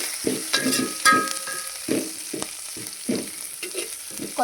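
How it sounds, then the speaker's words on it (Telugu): Curry leaves fry in hot oil for a chili spice powder served with idli and dosa, giving a steady crackling sizzle broken by short bursts of stirring and scraping in the pan. "ఇప్పుడు మనం విడిగా కరివేపాకుని ఫ్రై చేసుకోవాలన్నమాట."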